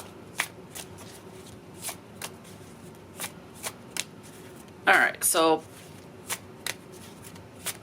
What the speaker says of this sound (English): Okay, give these a shuffle.